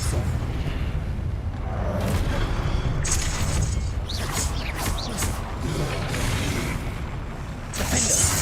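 Repulsor spell cast in Hogwarts Legacy, heard as a few sharp magical bursts and booming thumps over a steady bed of game ambience, with brief whooshing swells between them.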